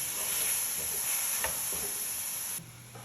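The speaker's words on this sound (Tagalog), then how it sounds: "nilagay ko na sa pan itong giniling. Haluin ko siya hanggang mawala yung water niya" Ground meat for tortilla pizza sizzles steadily in a hot pan, with a few soft scraping stirs, close and even, before the hiss drops abruptly near the end.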